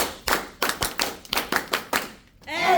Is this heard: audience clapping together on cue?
yes